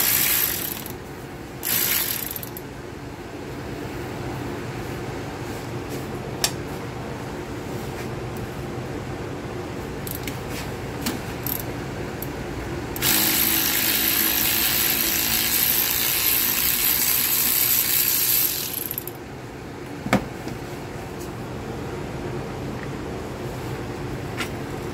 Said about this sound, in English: I'm gonna have to use a 15 deep socket to get those out